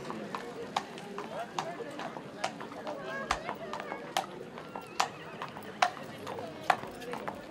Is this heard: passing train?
no